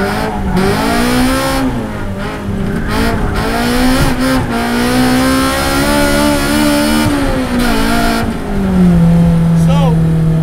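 A Toyota AE86 fitted with a Honda S2000 engine lapping Eagles Canyon Raceway, its engine note rising and falling continuously through shifts, loud and close throughout, with someone talking over it.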